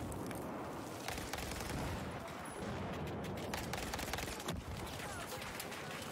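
Bulldog rifle in Battlefield 4 fired in short tap bursts, a dense stream of gunfire cracks with distant booms layered over continuous battlefield noise, fairly faint overall.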